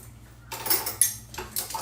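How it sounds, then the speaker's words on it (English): Kitchen knives clatter as they are put back away after washing: three short bursts of metallic clinking and scraping, close and fairly loud, with quiet gaps between them. "let me just put my knives back"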